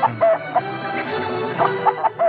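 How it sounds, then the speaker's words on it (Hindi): A rooster clucks repeatedly in short, close, fairly loud bursts, with no voices over it. "अब क्या इस मुर्गे से कुश्ती लड़नी होगी?"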